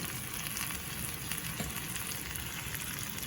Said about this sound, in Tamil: இப்போ எல்லாத்தையும் இப்படி சேர்கிற மாதிரி கிளறுவோம்